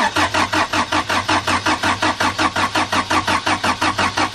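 A Honda Integra DB1's B18B1 short block, fitted with Nippon turbo pistons and Scat rods, cranks over on the starter without firing. It gives a loud, close, steady chugging rhythm of roughly four to five even pulses per second.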